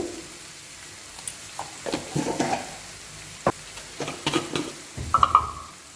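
Onions sizzling and frying in a pan while being stirred, with steady close sizzle, scraping stirs and a few light clinks of utensil against the pan, no talking.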